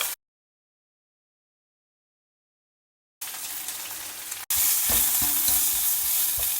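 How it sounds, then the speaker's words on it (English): Sliced onion stir-frying in leftover oil with mustard seeds and jeera: about three seconds of silence, then a steady sizzle begins and, after a split-second break, returns louder and fuller with light stirring, no voices. "stir fry the onions"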